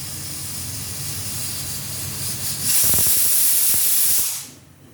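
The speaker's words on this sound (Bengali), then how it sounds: "দেখো সিটি পড়ছে" A pressure cooker cooking kulthi (horse gram) dal lets off its whistle, a loud, rushing steam hiss that builds, peaks for a couple of seconds, and then fades away.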